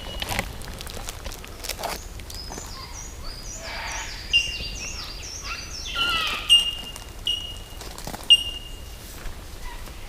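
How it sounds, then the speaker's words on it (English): Songbirds chirp and trill outdoors along a thru-hiking trail, bright repeated calls overlapping in quick series and standing out clearly over soft rustling ambience. "Listen to these birds."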